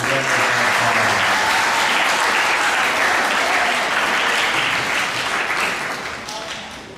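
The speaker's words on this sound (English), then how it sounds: "Give them a round of applause." Audience applause fills a school awards assembly as middle school honor roll students are recognized: dense, steady clapping from a large crowd that holds for several seconds and then begins to taper off.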